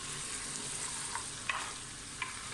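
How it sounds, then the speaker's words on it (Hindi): Goat meat with garlic-ginger paste and whole spices frying in a pan for potato curry, a continuous close sizzle with occasional scraping stirs and faint clinks. "ठीक है, ये थोड़ा फ्राई होता है।"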